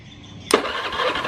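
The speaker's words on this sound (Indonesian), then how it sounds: "dinamo bunyi, namun motor nggak mau bunyi" A motorcycle's electric starter whirs steadily after a click, cranking without the engine catching while the side stand is down, a continuous mid-pitched grinding hum at close range.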